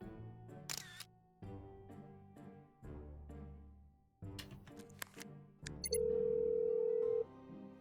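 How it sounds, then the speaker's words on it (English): An outgoing phone call rings on the line: a single steady ringback tone lasts just over a second, following a stretch of clicks and musical sounds. "Do you want me to call Ned? I'll call Ned."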